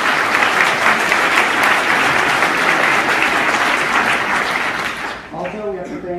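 Loud, sustained audience applause at a university lecture event, dense clapping from a large crowd that fades near the end as a voice begins speaking.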